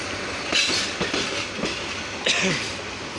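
The Rangpur Express intercity passenger train rolling along with rhythmic clickety-clack of wheels over rail joints, steady rumble with periodic louder clacks, fairly close.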